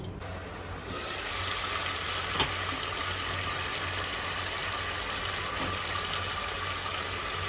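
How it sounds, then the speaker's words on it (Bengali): A covered pan of vegetarian curry simmers with a steady bubbling hiss that holds evenly throughout, a few faint clicks rising above it and no voices. "এবার ঢাকা দিয়ে 2-3 মিনিট ফুটিয়ে নেব"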